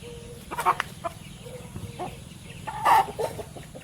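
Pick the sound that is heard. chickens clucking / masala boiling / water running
chickens clucking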